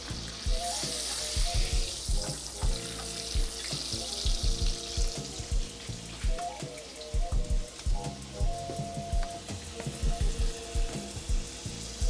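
Salmon fillets laid skin side down into a hot pan of avocado oil and butter, giving a steady close sizzle broken by frequent sharp pops and crackles of spitting fat, with occasional clinks of the pan throughout.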